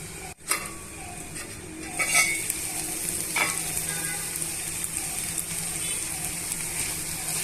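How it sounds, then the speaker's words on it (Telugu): Ivy gourd masala frying in a pan until brown, a steady soft sizzle with occasional stirring scrapes and a sharp clink near the start. "బ్రౌన్ కలర్ వచ్చేంత వరకు వేయించుకోవాలి."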